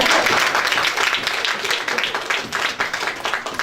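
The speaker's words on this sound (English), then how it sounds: "I thought I would get a big applause for that." A crowd applauds steadily, dense clapping filling the whole stretch at a fairly loud level, with no voices standing out.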